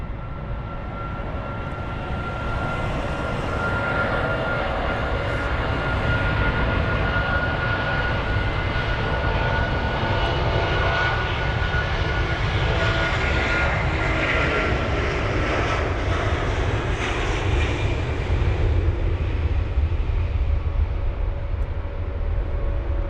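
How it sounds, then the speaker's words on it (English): Turkish Airlines Airbus A330-200 freighter on its takeoff roll at London Heathrow, a loud, sustained jet engine roar that builds and holds steady for over twenty seconds, heard from a distance with no voices. "It's the 200 freighter, the A330 with the reg Tango Charlie Juliet Oscar Yankee up to Billund."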